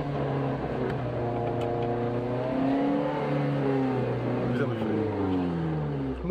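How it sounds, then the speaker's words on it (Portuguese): A car engine climbs and revs steadily on a hill before a gear change, a continuous rising and wavering drone heard from inside the cabin over about six seconds. "acelera no contagiros lá próximo dos 40, vai lá. Mais forte."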